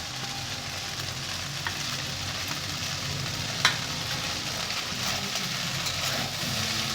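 Beaten egg fries in a large wok while being stirred, a constant close sizzle with faint scraping and one sharp clack of the utensil midway, no voices.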